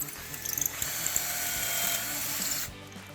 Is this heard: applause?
no